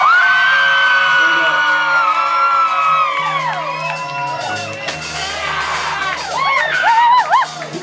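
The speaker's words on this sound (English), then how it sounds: "it looks like that little crowd right there likes it too" A small crowd cheers loudly and whoops, with rising and falling yells and excited shouts overlapping close by, swelling again near the end.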